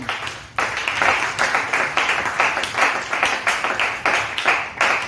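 A church congregation applauding to acclaim the Lord: many hands clapping loudly and steadily, settling into a rhythmic beat of regular surges for several seconds after a brief quiet start.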